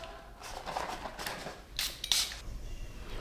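A few short hissing spritzes from a perfume spray bottle, close and fairly quiet, with a brief rustle between them.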